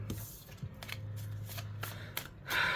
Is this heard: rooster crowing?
no